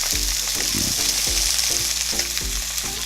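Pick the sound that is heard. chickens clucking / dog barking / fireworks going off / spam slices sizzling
spam slices sizzling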